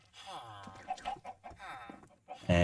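Minecraft Skyblock chickens clucking and squawking in short bursts, with a louder burst of clucks at the end; no talking.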